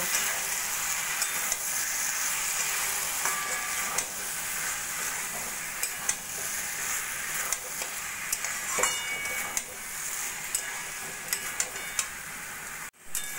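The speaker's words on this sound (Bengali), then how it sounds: "মশলাটা ভালো করে এবার সবজির সঙ্গে মিশিয়ে নেব" Ground roasted spice powder being stirred into mixed vegetables frying in a pan, a steady close sizzle with faint scraping of the spoon, no talking.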